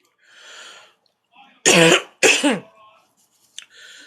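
Two loud, harsh coughs close to the microphone, with softer breathy throat-clearing sounds before and after.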